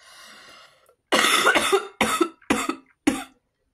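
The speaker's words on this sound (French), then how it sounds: "Je suis désolée, je tousse" Several harsh, loud coughs in quick succession, a first long one followed by three shorter bursts, after a brief stretch of quieter background sound.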